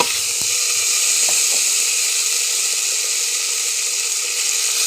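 Chopped tomato, green peas, ginger and slit chilli frying together in a pan, a loud, continuous close-up sizzle with a few faint clinks near the start.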